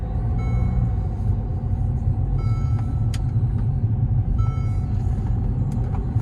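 A Mercedes CLA200D diesel sedan runs with a steady, loud low rumble from its engine and road noise, continuous and close, with no talking.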